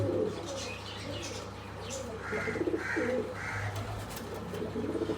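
Soft, low pigeon coos repeat several times over steady background hum, with faint chirps scattered between them.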